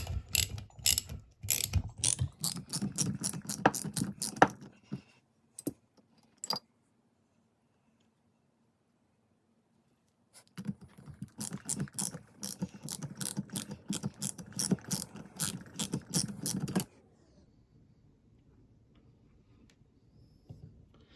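A wrench with a clicking ratchet backs off nuts from the rear wheel hub of a 1964 Suzuki K10, with two long runs of rapid, close, metallic clicking separated by a quiet stretch and a few isolated ticks.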